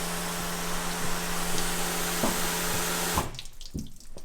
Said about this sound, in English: let's spray some water